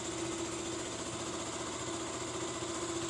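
A motorcycle engine runs at a steady idle, giving a constant mechanical hum with a fine rapid vibration and no talk over it.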